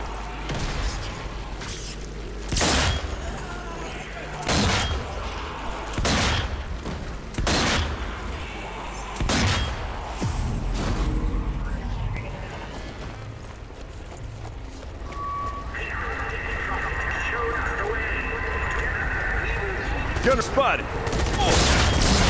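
Video game combat in a factory, with a grenade blast and gunfire: sharp, loud bursts repeat roughly every second or two, then give way to a sustained rumbling roar.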